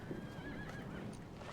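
A horse named Shimmer whinnies in The Last of Us, a high wavering neigh rising over a steady backdrop with soft hoof clip-clops, fairly close and without talk.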